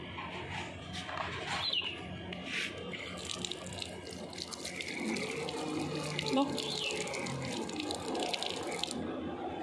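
Tap water runs steadily into a sink while someone washes their face, a close splashing flow with intermittent bursts, and a voice talks over it at times.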